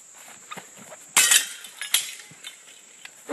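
Glass shatters loudly after a hammer blow, a sharp crash followed by scattered clinks of falling shards, with no talk over it.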